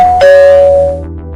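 A bright, loud ding-dong chime rings once and fades out over music.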